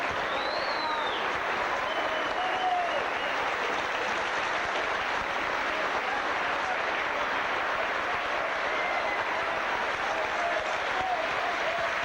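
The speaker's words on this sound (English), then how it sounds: "Tremendous round of applause for Paul Groves." A stadium crowd applauds steadily and loudly for a substituted rugby league player, Paul Groves, in a St Helens versus Sheffield match, the dense clapping sustained without pause throughout.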